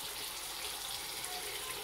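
Water runs from a tap and fills a cup during homemade soap making, a steady bright gush that holds at a constant level throughout, with no talking.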